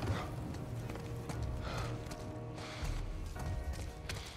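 Horses in the video game The Last of Us clop faintly at a distance, their hooves making soft, irregular knocks under a low, steady game ambience.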